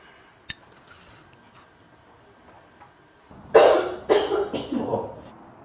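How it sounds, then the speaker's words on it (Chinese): A pregnant woman indoors lets out a cluster of three or four loud, harsh coughs after a quiet stretch broken only by a faint tick, with the coughs close and prominent. "你怎么咳嗽起来了？"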